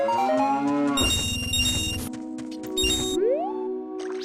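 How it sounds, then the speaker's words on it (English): A cow mooing in an Ocarina of Time randomizer game, several loud drawn-out tonal moos close up, each rising and falling in pitch, heard alone without talking. "Hey, cow."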